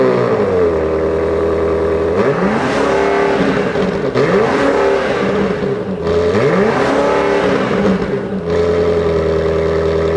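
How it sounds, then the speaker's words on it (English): The 2023 BMW XM plug-in hybrid's exhaust is revved repeatedly while parked. It is a loud, continuous engine drone with several distinct swells that rise and fall, and there is no speech. "this thing does sound pretty amazing, even as a plug-in hybrid vehicle"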